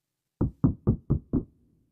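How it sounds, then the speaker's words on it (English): Five evenly spaced knocks on a door in the Roblox game Berry Avenue, sharp and close, sounding alone with a brief quiet before and after. "Who's knocking at my door at this time,"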